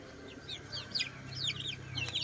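Native chickens, a hen with month-old chicks, cluck close by in a steady stream, with high, chirpy calls overlapping over a low background rumble.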